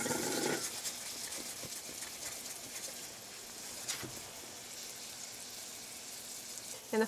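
Small mushrooms frying in a pan for Russian dumplings, a faint steady sizzle heard from close by with a few light clicks and no talking.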